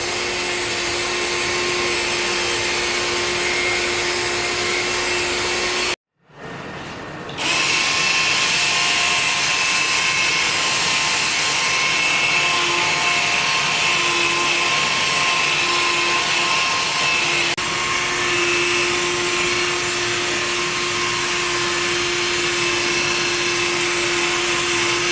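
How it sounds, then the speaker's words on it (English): A power buffer polishes wax off the paint of a Toyota MR-2 Spyder Turbo, whirring loudly with a steady motor hum. It cuts out briefly near six seconds, then spins back up and runs evenly to the end. "let's go ahead and start buffing this off because I like to"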